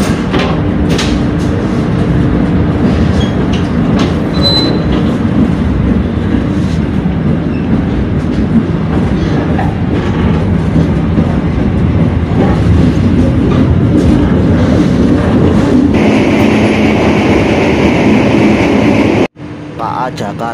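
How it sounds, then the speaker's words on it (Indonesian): The KA Jaka Tingkir passenger train running at night after departing Purwokerto station, heard from inside as a loud, continuous rumble of wheels and carriage, ending in a sudden drop near the end. "KA Jaka Tingkir kembali diberangkatkan dari stasiun Purwokerto, Kabupaten Banyumas jam 2 lebih 34 menit."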